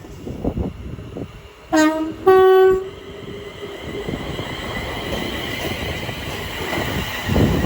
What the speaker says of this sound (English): And also the train is 1615 London Overground service to London Euston.